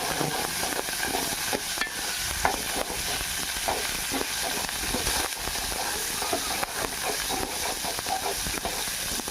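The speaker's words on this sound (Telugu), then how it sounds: "ఫ్రై చేసుకున్నాం." Coriander leaves frying in a pan until crisp, a dense continuous sizzle and hiss held at an even level, close with faint stirring scrapes.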